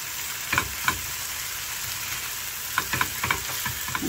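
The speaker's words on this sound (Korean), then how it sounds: "얘를 이 파와 같이 이렇게 볶아주세요." Dried pollack strips stir-fried with green onions in a pan, giving a soft continuous sizzle broken by a few sharp scraping clicks of the utensil, close by with no voices.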